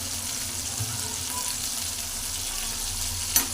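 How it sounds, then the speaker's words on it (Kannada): Tomatoes fry with salt in a pan for a bean gravy, a soft, even sizzle held steady and close, with one brief clink near the end. "ಉಪ್ಪು ಹಾಕ್ಬಿಟ್ಟು ಟೊಮಾಟೊ ಫ್ರೈ ಆಗಬೇಕು."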